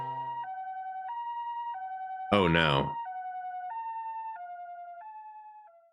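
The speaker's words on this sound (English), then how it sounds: "Oh, that's an ambulance." A video-game ambulance siren in NIKKE, a clear two-tone wail alternating high and low in a regular rhythm, briefly broken by a short spoken exclamation before the siren carries on and fades out at the end.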